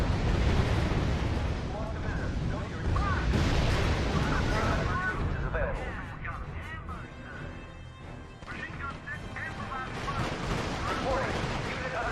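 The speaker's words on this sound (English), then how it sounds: "Unit under sustained fire." Sustained gunfire and artillery rumble in the real-time strategy game R.U.S.E., a dense, continuous barrage of booms and crackling shots at steady loudness, with a voice speaking over it.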